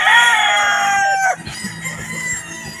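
A round head gamefowl rooster crows loudly and close, the drawn-out call breaking off after about a second, followed by a run of short soft clucks.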